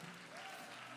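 A church congregation applauds during a worship service, dense continuous clapping filling the space at even volume throughout, with faint voices mixed in.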